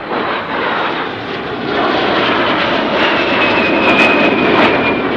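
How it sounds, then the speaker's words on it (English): A de Havilland Vampire jet with its de Havilland Goblin engine at an airshow, a loud, roaring whine that builds and holds steady as the aircraft passes nearby. "powered by the glorified hairdresser, that's the de Havilland Goblin engine"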